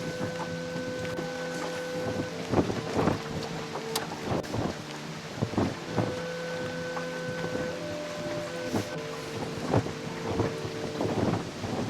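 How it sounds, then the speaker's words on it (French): Rain and a storm roll in over open water during a fishing outing, with low rumbling, steady wash of rain and wind buffeting the microphone over a droning boat engine hum. "La pluie arrive, le temps de merde"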